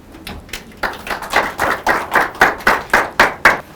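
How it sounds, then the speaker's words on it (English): A small audience claps at a museum talk event, a sparse, close run of individual hand claps that settles into a steady rhythmic beat, fairly loud and heard alone with no voices over it. "Please give a big round of applause to Mr. Jorrit."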